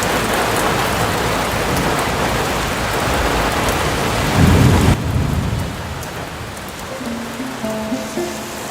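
Heavy rain pours steadily as thunder rumbles low and builds, then the downpour drops away to a quieter patter with soft tones.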